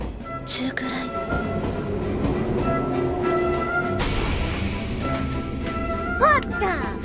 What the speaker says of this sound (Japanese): マイちゃん、電車好きなの？